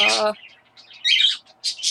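A pet bird chirps and tweets in short bright bursts in the background, with a brief voice at the start.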